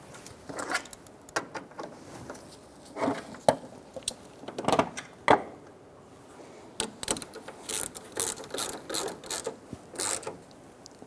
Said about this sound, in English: Now we're going to reinstall our bolt.